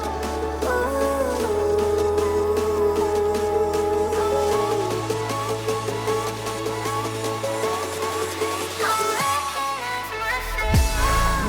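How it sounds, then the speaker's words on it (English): Electronic dance build-up made in FL Studio, with the bass automated to thin out and drop away as it rises: a loud, dense synth mix with stepping low notes, sweeping risers and a swell at the end. "automate the low end, to basically remove the bass as it goes up to the build-up."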